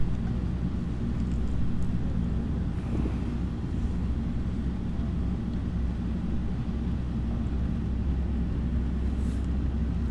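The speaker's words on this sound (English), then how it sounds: "So we're sort of driving around the edge of the field." A car drives along a road near Tromsø, Norway, heading toward Ersfjord around the edge of a field; a steady low engine and tyre rumble with some wind buffeting runs continuously throughout.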